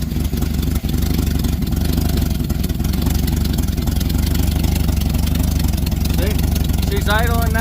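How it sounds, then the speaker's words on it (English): A Chevrolet truck engine idles steadily and loudly up close, a constant low rumble with a faint clattering texture, set up for snow plowing; a brief higher whine rises near the end. "She's idling now."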